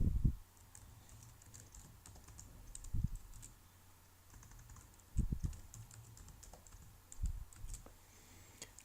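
Typing code on a computer keyboard, with a faint, sparse patter of key clicks and a few louder thumps, likely from the space or enter key, in a quiet room.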